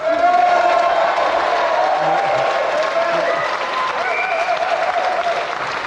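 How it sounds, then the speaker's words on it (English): Studio audience on a retro TV gaming show breaks into loud, sustained applause with some cheering, a steady dense clatter of clapping throughout with no talk over it. "if we just like to give a round of applause again for our loser Sahed and our winner Annabelle Croft"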